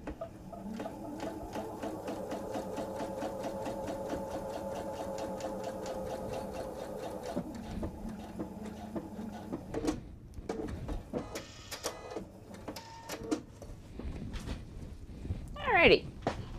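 A sewing machine runs steadily stitching a travel tote for about ten seconds, a fast rhythmic mechanical chatter, then stops and gives way to handling clatter and rustling, with a voice talking.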